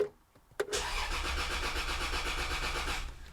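A Toyota Soarer that sat unused for a decade, fitted with a fresh battery and a new rotor arm, starts with a key turn: a sharp click, then a steady loud whirring crank of the engine that continues for nearly three seconds.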